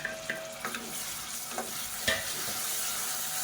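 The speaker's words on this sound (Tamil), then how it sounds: "இது நல்லா மசிஞ்சு வர அளவுக்கு வதக்கிக்கலாம்." Onions and tomatoes sautéing in a pan for a green moong dal curry, with a soft steady sizzle and several distinct scraping strokes of a spoon stirring through the mixture, close and fairly quiet.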